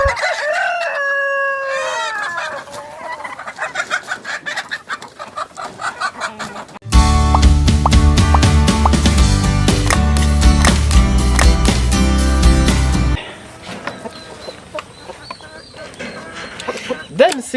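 A rooster crows loudly up close at the start among clucking chickens of a small backyard flock of six, then loud music cuts in for several seconds before the birds' clucking and scratching sounds resume.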